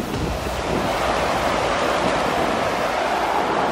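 Spring water rushes continuously as it flows down into an orchard, a loud, steady broadband roar close to the microphone with some wind buffeting and no voices.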